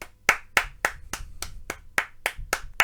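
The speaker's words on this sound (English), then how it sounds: "that was me clapping sort of behind my microphone" Ten crisp hand claps ring out at a steady, fairly quick rhythm, each one sharp and close, clapped just behind a desk microphone with no talking.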